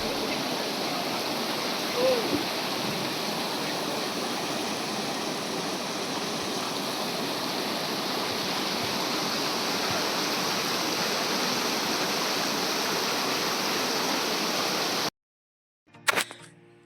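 Steady rushing water from an artificial waterfall on a man-made hill in a park pours without a break, then cuts off abruptly near the end before a short burst of other noise.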